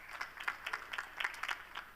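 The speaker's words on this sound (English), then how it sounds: "Clap if you have not done the open spaces before." A conference audience at a DevOps event claps in a brief, scattered round, individual hand claps popping irregularly at moderate distance with no voices over them.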